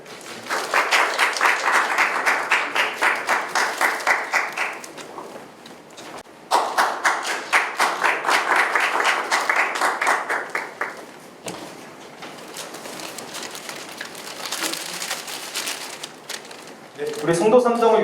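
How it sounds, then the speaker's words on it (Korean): Bursts of audience applause at a Songdo 3-dong community residents' meeting in Incheon, two sustained rounds of clapping separated by brief pauses, followed by quieter scattered clapping and a voice speaking at the end. "우리 송도 3동을 위하여 헌신해주신 두 분과 고남석 구청장님께 다시 한번 큰 박수 부탁드립니다."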